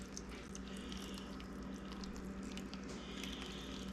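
Liquid is poured over a walnut cobbler topping, a faint, steady wet trickle and drip running continuously under a low background hum.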